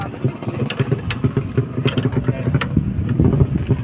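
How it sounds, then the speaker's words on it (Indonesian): A Yamaha ADMS 125 motorcycle exhaust rumbles at a steady, pulsing idle nearby, a low throbbing beat with light mechanical ticks and some voices in the background. "Udah biasa dia ngedengar suara knalpot."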